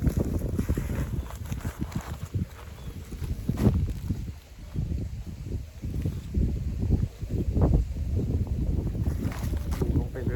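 Strong, steady wind buffets the microphone outdoors in open rice farmland, a continuous low roar with gusts rising and falling throughout, while someone speaks intermittently over it.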